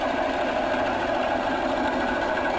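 A twin piston steam engine drives a 12 kW generator, giving a steady, loud mechanical whir with a continuous even hum and rapid fine vibration throughout, close by with no pauses.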